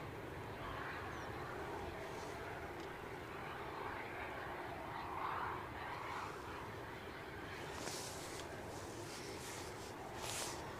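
A Ryanair jet taking off at a windy Edinburgh Airport gives a faint, distant, steady engine roar that blends into wind noise. Brief gusts or louder swells come near the end.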